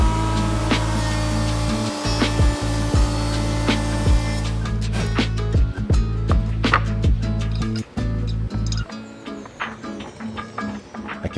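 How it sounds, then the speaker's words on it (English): A power saw cuts a rough-sawn lumber board to length, running as a loud, steady droning whine with scattered clicks and knocks before winding down near the end, with no talking. "This project's going to start by cutting this board down to 18 inches"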